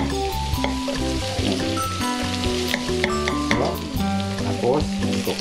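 Pork frying with onion, chili and garlic for Bicol Express, a loud, steady close sizzle with stirring clatter and scraping throughout, no talking.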